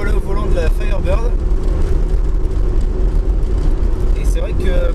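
A 1978 Pontiac Firebird muscle car drives along with a steady, loud engine rumble and road roar throughout, while someone talks over it.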